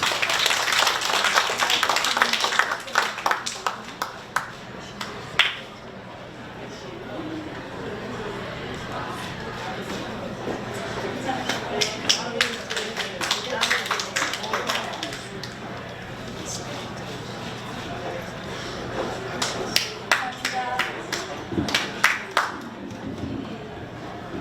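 Indoor audience at a Korean women leaders' New Year gathering, breaking into bursts of clapping that rise and fall, with speech and murmuring between the rounds of applause.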